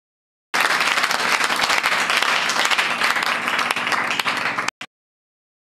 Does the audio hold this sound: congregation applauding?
yes